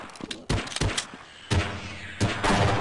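Gunfire in the Half-Life video game, several separate loud bursts of shots spaced about a second apart, each sharp and punchy with a short ringing decay.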